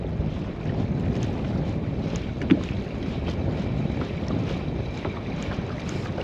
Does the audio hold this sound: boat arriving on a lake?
yes